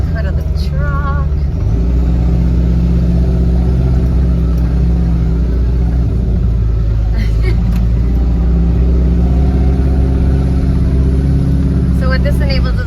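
Truck engine laboring up a steep old logging road, a loud continuous low rumble with little change, while people talk inside the cab.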